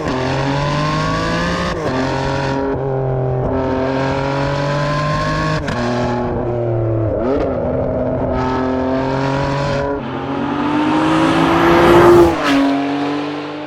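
Ferrari 599 GTB Fiorano V12 revving hard and close, its loud engine note climbing through repeated pulls with sharp shift breaks, then swelling into a final high-pitched surge before dropping away.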